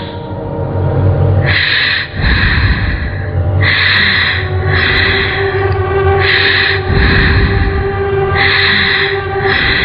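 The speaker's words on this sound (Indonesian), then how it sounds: "ku dengar nafasnya terengah-engah" Heavy, rhythmic panting breaths, loud and close, repeating in quick ragged cycles with no talking.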